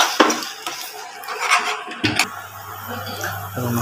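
Pointed gourd with spices is stirred in oil in a pan over a lowered flame, giving scattered metallic scrapes and clinks of a utensil against the pan, with a low steady hum in the second half.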